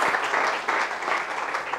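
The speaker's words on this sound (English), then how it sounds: "Please give a warm round of applause" Warm round of applause at a business awards event for small and medium enterprises, a dense wash of clapping from many hands, steady and moderately loud with no voices on top.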